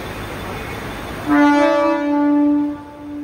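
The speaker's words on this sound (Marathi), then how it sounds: "आमची पण ट्रेन येते." A train horn sounds as a train pulls into a station bound for CST, a sustained loud harmonic blast starting partway in over a steady station rumble, holding for over a second before fading.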